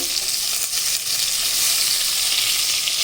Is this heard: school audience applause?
no